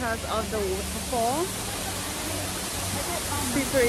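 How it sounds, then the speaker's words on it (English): A waterfall rushes steadily in the background, a broad constant hiss of falling water, with a voice talking over it. "Refreshing here because of the waterfall."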